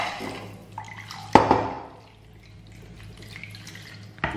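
Water rinsed from a mixer jar is poured into chicken curry masala with curry leaves, a short splashing pour with drips and a sharp clink of the jar partway through, then quieter trickling.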